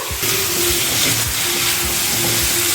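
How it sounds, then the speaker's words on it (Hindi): Potato and cauliflower pieces sizzle loudly in a hot pan during stir-frying, a dense, steady hiss with rhythmic scraping strokes as the vegetables are tossed, close and uninterrupted. "सब्जी को लगातार चलाते हुए भूनेंगे और इसके साथ ही डालेंगे 1 टीस्पून हल्दी पाउडर।"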